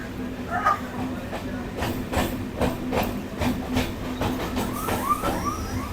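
A Kolkata circular railway train pulls into Shobhabazar station, a steady rolling rumble with rhythmic wheel clatter and brief squealing tones near the end, heard from on board while someone talks over it.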